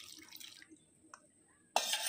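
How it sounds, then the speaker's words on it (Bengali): Water poured from a bowl into semolina dough, a short splashy pour arriving abruptly near the end after quiet, faint kitchen sounds. "আমি এক বাটি থেকে একটু কম পরিমাণে জল দিয়ে দিচ্ছি"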